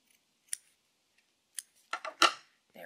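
Scissors trimming quilt binding fabric give a handful of short, crisp snips close up in an otherwise quiet room.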